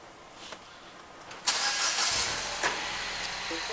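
A 2011 Mini Cooper S R56 with a random misfire cranks and fires at about one and a half seconds, then settles into a steady close idle with a couple of small bumps in level.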